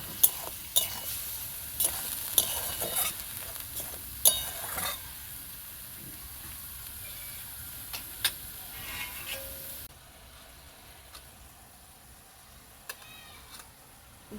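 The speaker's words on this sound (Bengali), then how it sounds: "অল্প দিয়ে দেবো হলুদ গুঁড়ো, ভালো করে নেড়ে চেড়ে মেখে দেবো।" Chicken pieces being stirred and mixed with turmeric powder in a pan, with a soft scraping shuffle and a few clinks against the metal over low sizzling, nearby and moderately quiet, no talk.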